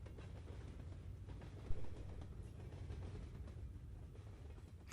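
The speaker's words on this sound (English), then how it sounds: "And only at the end, the sound of the train." A train rumbles past with a steady low roar and faint rhythmic clatter, loud and close for the whole stretch, from the closing moments of a K-pop music video with no talking.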